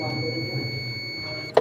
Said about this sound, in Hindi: सबसे पहले अपना कंटिन्यूटी के ऊपर बजर मोड में जाएंगे और बजर बजा के चेक करेंगे